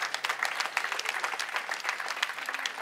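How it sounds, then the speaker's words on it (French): Steady audience applause at a seminar fills the whole stretch, dense and even with scattered sharper claps, fairly distant and moderately loud, with no talking over it. "je pense qu'on peut applaudir"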